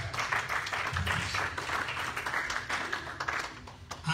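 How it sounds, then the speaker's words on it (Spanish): A church congregation applauds, producing a dense, moderately loud wash of clapping that holds steady for several seconds and then thins slightly near the end. "Den un aplauso al Señor."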